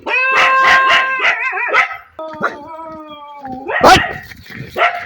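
Several dogs bark and howl close by, long wavering howls overlapping with sharp barks and yips, then a second burst of barking near the end.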